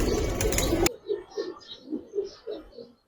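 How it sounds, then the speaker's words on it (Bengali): A female pigeon coos softly in a run of five or six low, throaty calls at close range, following a short burst of loud rustling noise. "দুইটাই মাদি কবুতর"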